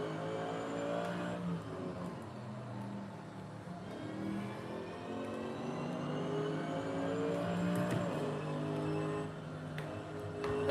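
GT3 race car in Assetto Corsa running off into gravel at a corner exit, a steady engine drone with rising and shifting tones as the car scrabbles and accelerates, moderately loud with no talk.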